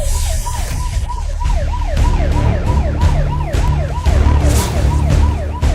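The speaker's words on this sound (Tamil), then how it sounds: "ஒரு பெரிய அலாரம் ஒலிக்க ஆரம்பித்தது" A loud wailing siren-style alarm goes off as someone sits in a chair, rising and falling in a steady repeating cycle over a low rumble, dominating the scene with no talk.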